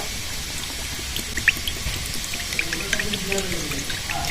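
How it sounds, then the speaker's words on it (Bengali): Refined oil is poured into a wok set on a lit stove, a steady liquid stream with a few soft drips and splashes throughout. "কড়াইতে রিফাইন তেল দিয়ে দেবো"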